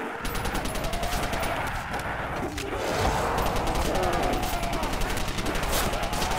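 An MG42 machine gun fires continuously in a custom zombies video game, a loud, dense rattle of rapid shots that runs through the whole clip and mixes with other game noise.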